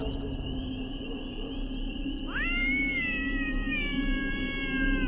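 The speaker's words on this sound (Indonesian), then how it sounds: "Aku mengikuti terus kucing itu." A cat meows loudly and close, one long drawn-out caterwauling cry that rises and holds over steady background noise, with no one talking.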